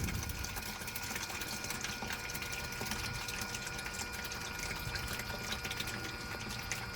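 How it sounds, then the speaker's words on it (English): A Marks glycol exchange pump for an Alde heating system runs continuously, a steady buzzing motor hum with liquid moving through it, constant and close without pauses. "When it gets down to the bottom, before you suck air, turn the pump off."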